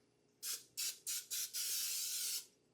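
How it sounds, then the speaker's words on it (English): Cooking spray from a can misted onto a pan in a home kitchen: four short hissing bursts followed by one longer continuous spray, close and fairly quiet. "This time I'm going to spray it."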